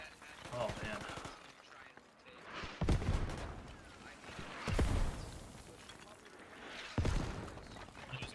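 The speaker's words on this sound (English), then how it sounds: "These mortars are just brutal." Mortar shells landing in the Squad military shooter, three heavy thumping impacts spaced a couple of seconds apart against a quieter background of battle noise.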